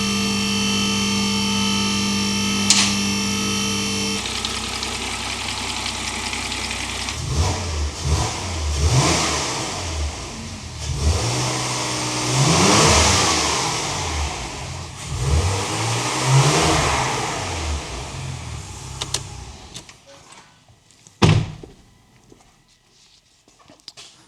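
Porsche Macan engine running after a rattle repair, oil hot, revving up and settling in repeated rising and falling bursts, close and steady, with clicks early on and a sharp knock near the end.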